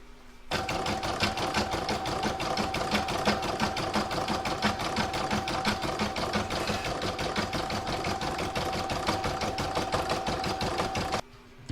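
An embroidery machine stitches satin stitch and decorative edging in an in-the-hoop floral topper with a fast, steady needle chatter and a constant motor hum. It runs close and uninterrupted for about eleven seconds, then stops abruptly, with no talking.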